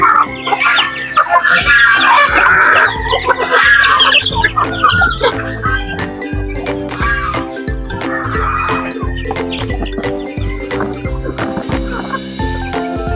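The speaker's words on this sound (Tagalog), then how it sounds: "Kainin rin natin to yung mga sisiw natin" Native chicks and chickens chirp and cluck busily around feed, with metallic jingling and clattering close by, while a voice speaks briefly.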